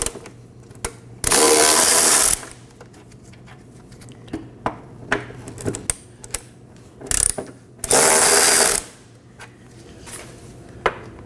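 A ratchet works 13mm bolts loose under a 2015-2023 Nissan Maxima while its rear vapor canister is replaced. Two loud bursts of rapid clicking stand out, with faint scattered taps and handling noises between them.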